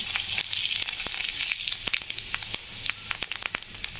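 Mustard seeds and cumin sizzling in hot oil for a usal, a bright continuous hiss pierced by many quick sharp pops and crackles, close and fairly loud, with no talking.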